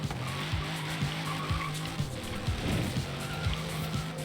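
A Liberty Walk Hellcat slides in Forza Horizon 3, its tires squealing continuously under a steady, droning engine note, loud and close throughout.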